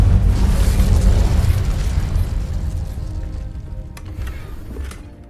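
Fire spell Incendio cast in the video game Hogwarts Legacy: a loud, broad burst of roaring flame that starts at full strength and slowly fades over several seconds, ending in a few faint crackles.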